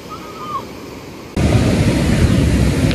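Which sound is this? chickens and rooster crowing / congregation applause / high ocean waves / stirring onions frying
high ocean waves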